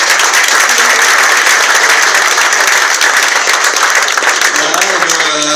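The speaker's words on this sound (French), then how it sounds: "On peut l'applaudir quand même." Steady, loud applause from an audience at a gaming convention birthday celebration, continuous clapping filling the room throughout with no break.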